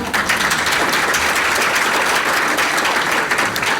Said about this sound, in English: 더 크게 다시 한번 박수를 쳐주시기 바랍니다.